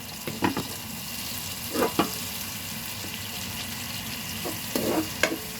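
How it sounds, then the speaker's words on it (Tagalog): Tomatoes frying in a pan, a steady sizzle running throughout, broken by a few louder stirring scrapes and bubbling bursts. "Kinakailangan lutong-luto ang ating kamatis para hindi mapanis."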